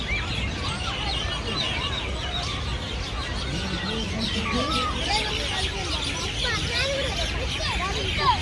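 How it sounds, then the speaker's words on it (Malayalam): Birds chirping among the trees and plants of a city creek park in Dubai, with quick scattered tweets repeating throughout over a constant murmur of background voices and distant ambience. "അതുകൊണ്ട് തന്നെ ഇഷ്ടം പോലെ കിളികളും"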